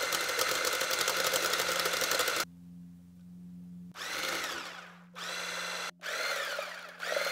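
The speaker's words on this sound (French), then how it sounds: "je vais être obligée d'ajouter petit à petit l'huile comme ça et de mixer pour pouvoir tenir le bol" A Lidl hand blender whirs as it mixes mayonnaise while oil is added bit by bit, running in several loud on-off bursts with brief motor-only gaps and no talking.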